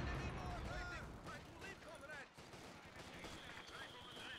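A machine gun fires in a Company of Heroes match on the Steppes map, quiet bursts of rattling gunfire mixed with other battle noise, heard under players talking throughout.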